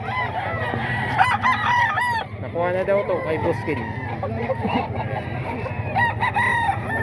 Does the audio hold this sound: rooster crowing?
yes